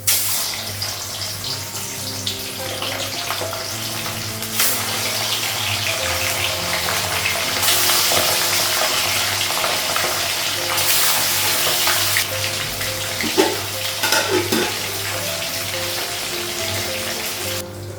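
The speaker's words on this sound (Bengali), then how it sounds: "মাছটা হচ্ছে এক সাইডে ভাজা হয়ে গেছে" Fish sizzles in hot oil in a wok, a broad steady frying hiss that holds evenly throughout with a low hum beneath and occasional clinks, no talk.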